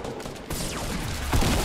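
Rapid gunfire during a Fortnite Battle Royale 50 vs 50 match: a continuous, dense fusillade of shots that grows louder and heavier toward the end, with no talking.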